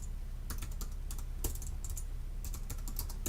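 Steady clacking of a computer keyboard as a commit summary is typed, close-up keystrokes in uneven bursts over a faint room hum.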